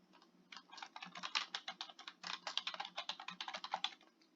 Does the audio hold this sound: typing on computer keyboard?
yes